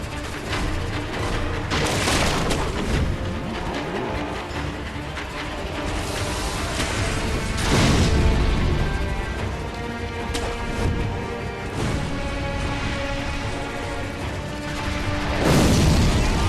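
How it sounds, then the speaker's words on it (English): Cannon fire in Sekiro: Shadows Die Twice lands in heavy booms and crashes, with a few loud blasts spaced several seconds apart over a dense, continuous wash of combat noise. "Just got cannon fire coming at you"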